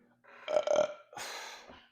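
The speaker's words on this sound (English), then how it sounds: "I'm burping." A person burps twice, close to the microphone, a short gurgling belch followed by a longer, breathier one, with no talking over it.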